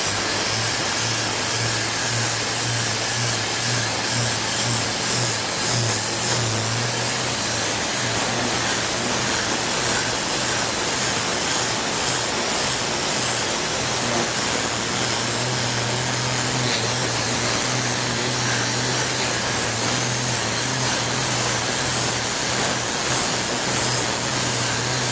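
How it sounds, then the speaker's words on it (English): Tornador upholstery cleaning tool running on its water-and-air setting, a steady loud hissing spray of air and water with a constant drone, sustained without break throughout and without any talk. "Now I'm gonna switch to the water and air section of my Tornador."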